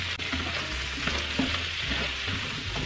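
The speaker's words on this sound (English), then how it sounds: "we are going to season our veggies with some black pepper, some thyme, celery salt, and some seasoned salt. Go ahead and give that a stir." Seasoned vegetables with black pepper, thyme, celery salt and seasoned salt sizzle in a pan as they are stirred, a steady close frying hiss with scraping stir sounds and no speech.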